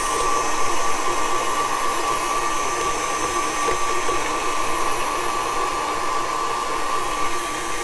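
An electric mixer beats carrot cake frosting in a bowl, giving a steady, loud motor whir with a constant whine. It runs without pause for several seconds, with no talking.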